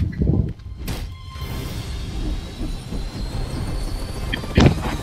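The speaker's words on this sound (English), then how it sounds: "how come you're flying the helicopter?" Helicopter flying in the Resident Evil 6 video game, Leon's campaign finale: a steady, loud rotor and engine drone fills the clip, with a couple of brief louder bursts near the start and end.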